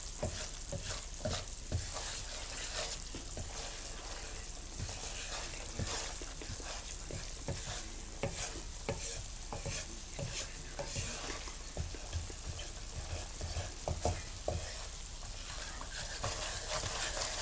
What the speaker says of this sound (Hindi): आटे को हमने देसी घी में इलायची डाल के खुशबू आने तक भूनना है।